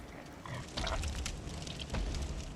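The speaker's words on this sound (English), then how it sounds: "Oh, a pig." A pig in Bloodborne grunts and snorts in low, rough bursts, several grunts over a couple of seconds amid a dim ambient background, with no talk over it.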